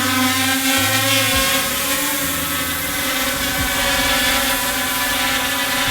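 A small Yuneec Mantis Q folding drone hovers and flies nearby outdoors in calm air, its propellers giving a constant high-pitched buzzing whine with steady layered tones, loud and unbroken throughout.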